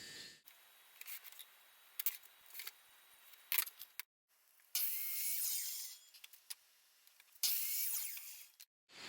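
A fir wood plank is cut with a hand saw in bursts of rasping strokes, close and fairly loud, separated by short quiet pauses and some handling knocks.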